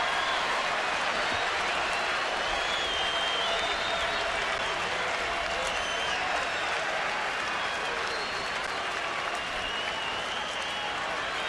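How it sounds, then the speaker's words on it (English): Padres fans roar and applaud throughout a San Diego baseball stadium as the Giants are held to their final strike, a dense and sustained wall of cheering and clapping that holds steady for the whole span. "They haven't had a chance to cheer like this for a while."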